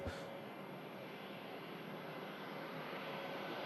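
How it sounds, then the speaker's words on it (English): An Airbus A319 airliner arriving from London Heathrow at Manchester Airport makes a faint, steady distant engine roar that carries on unchanged with no talk over it. "Arriving in from London Heathrow, A319."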